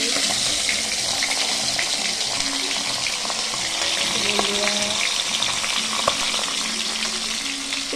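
Fish frying in hot oil gives a steady, loud sizzle and crackle that runs unbroken throughout, with a few faint clinks and pops rising above it.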